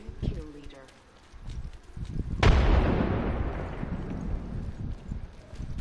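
A frag grenade explodes in a multiplayer shooter game, a sudden loud boom followed by a long rumbling decay, with players talking over game sounds before it.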